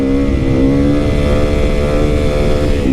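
Supermoto motorcycle engine revving steadily while being ridden, loud and close with a continuous, buzzy drone.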